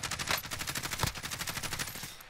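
Rapid automatic gunfire from a first-person shooter match, a fast steady stream of shots with one heavier report in the middle, moderately close and alone without talk.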